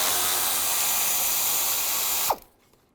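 A power tool with a 10mm socket whirs steadily, loud and close, as it removes the bolts of the radiator cooling fan assembly on a 2006-2011 Cadillac DTS, then stops abruptly with a clunk and a short rattle.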